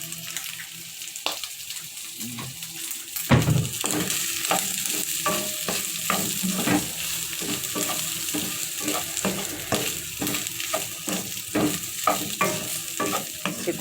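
Chicken gizzard adobo stirred and frying in a pan, steady sizzling with repeated scraping stirs of a utensil against the pan, close and continuous with no talking.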